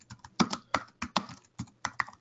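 Fingers tap a computer keyboard in quick, uneven bursts of crisp close-up clicks, about a dozen keystrokes with short pauses between, no voices over them.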